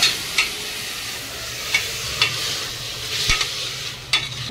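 Pieces of chicken mixed with turmeric sizzle and fry in a pan, with a spoon stirring and scraping in several sharp clicks over a steady hiss, close and alone.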